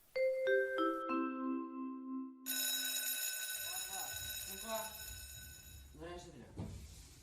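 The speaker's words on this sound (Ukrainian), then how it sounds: "Увага! Другий дзвоник. Розпочинається урок." An electronic school bell chime rings for the second bell of a lesson, a series of clear tonal strikes opening the clip, followed by a louder sustained melodic tone with voices and classroom bustle beneath.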